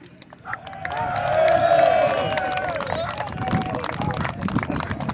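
Outdoor crowd at a wartime reenactment event cheering and clapping for the reenactors, a swelling roar of voices with scattered whistles that peaks early and then fades into steady crowd noise.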